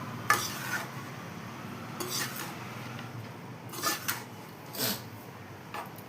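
Lemon rice being stirred and mixed in a pan: soft scraping strokes of a spoon against the metal, about five short separate bursts over a quiet background.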